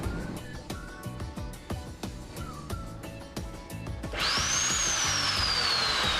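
Repaired electric motor after bearing replacement, running with a steady hum and rhythmic clicking and knocking, then a rising whine that spins up loudly in the final seconds.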